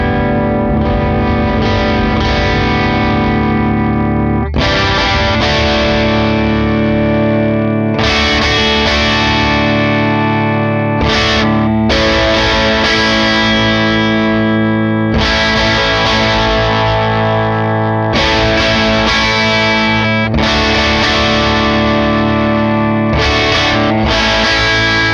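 An electric guitar runs through a Joyo Husky Drive overdrive pedal, loud and distorted, with sustained overdriven chords strummed in separate phrases and brief gaps between them.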